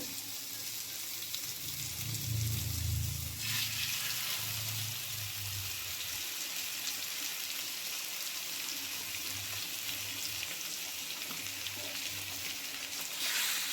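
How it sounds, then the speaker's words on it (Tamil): Pieces of mayila fish fry in a pan, giving a steady, faint, hissing sizzle throughout, with a soft low rumble near the start. "இப்போ வந்து மீன் வறுத்து வச்சு எல்லாத்தையும் வந்து வச்சிடலாம்"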